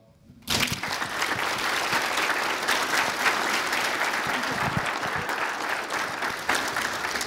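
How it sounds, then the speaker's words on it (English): A church congregation breaks into sudden applause after a prayer. The dense clapping starts abruptly and keeps going, close and full, for about seven seconds. "Give him another applause."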